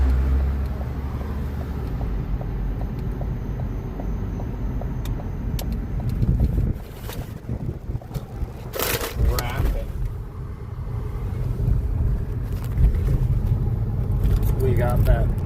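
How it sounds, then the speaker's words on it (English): Steady road traffic with cars passing close by, a continuous roar of engines and tyres. "We got that traffic."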